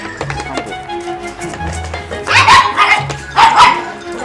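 A big dog barks up close, with two loud, deep barks roughly a second apart over a steady background hum.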